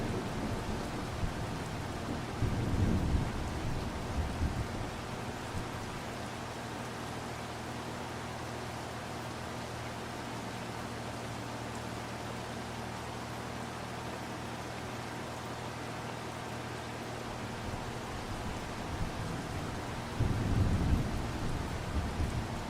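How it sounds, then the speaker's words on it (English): Steady, even rainfall in the Farming Simulator 25 game, with a deep roll of thunder near the start and another near the end, heard alone without voices. "Now it's raining."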